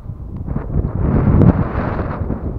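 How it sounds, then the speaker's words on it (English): A gust of wind buffets the microphone outdoors during a stunt kite repair, a rough low rumble swelling toward the middle and easing off, with no talk over it. "Oh, bit of a gust."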